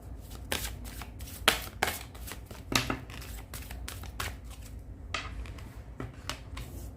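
Angel oracle cards are shuffled by hand in a series of crisp riffling bursts and soft slaps, close and fairly quiet, with short pauses between the shuffles.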